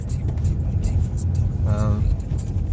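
A car cruising slowly at about 23 mph gives a steady low engine and road rumble from inside the cabin, with a brief whine of a passing vehicle midway.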